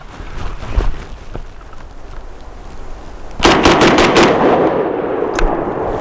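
An AK rifle fitted with a PWS muzzle device fires a quick string of about five or six loud, sharp rounds outdoors, each crack ringing out after a stretch of quiet background.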